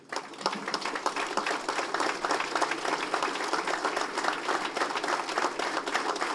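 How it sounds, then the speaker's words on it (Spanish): A crowd applauds members of the National Civil Police at a community gathering in Copapayo, with continuous, lively clapping that holds at an even level throughout. "les brinden un aplauso a todos ellos y a ellas"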